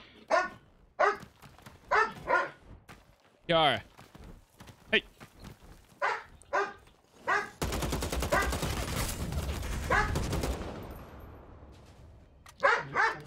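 Dogs in a game world bark in short, sharp bursts scattered through the stretch while they play together, heard beneath a person talking, with a dense burst of rapid gunfire partway through.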